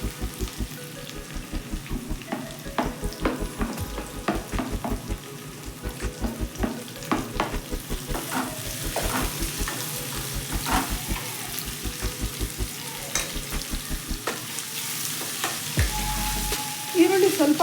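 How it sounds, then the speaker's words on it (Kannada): Chopped onions sizzle steadily in a hot pan while a spoon stirs them in quick, regular scraping strokes, loud and close, with no talking. "ಇಷ್ಟು ಫ್ರೈ ಮಾಡಿಕೊಂಡ್ರೆ ಇವಾಗ ಹೆಚ್ಚಿಟ್ಕೊಂಡಿರೋಂಥ ಈರುಳ್ಳಿ ಹಾಕೋತಾ ಇದ್ದೀನಿ."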